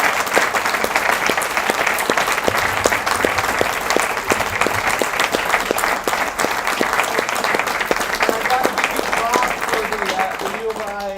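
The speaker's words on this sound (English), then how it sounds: "So how about another big round of applause?" Audience applause at a jazz forum concert, dense steady clapping from a large crowd that holds strong through the whole stretch, with a few faint whistles near the end.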